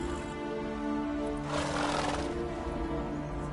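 Roach, a horse in The Witcher 3 video game, gives a neighing whinny over steady game music and ambience, a single call of moderate loudness swelling mid-clip.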